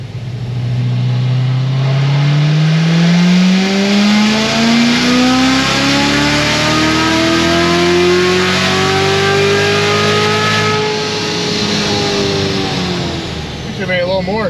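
Chevrolet Corvette C7 Z06 V8 on a dyno, one long loud rising pull with the engine pitch climbing steadily for over ten seconds before cutting off, with a voice talking underneath.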